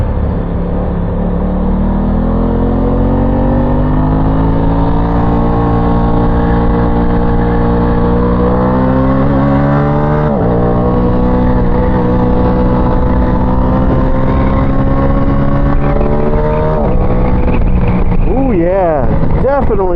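An Aprilia Tuono 660 motorcycle engine revving loud and close, a sustained rising and falling drone with a brief dip midway and quick revs near the end, with a voice talking over it.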